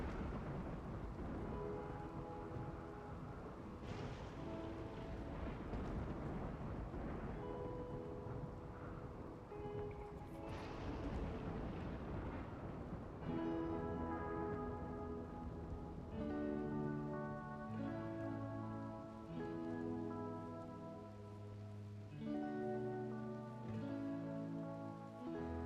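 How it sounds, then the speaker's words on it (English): Rain from a thunderstorm in the video game RimWorld, a steady wash of falling rain with low rumbles, joined midway by soft tonal game music. "Well, there's a rainy thunderstorm."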